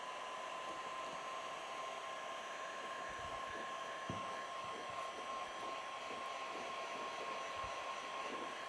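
A heat gun or hair dryer blows steadily at low temperature over waxed suede shoes, a continuous even whirring hum with faint knocks and handling noise underneath.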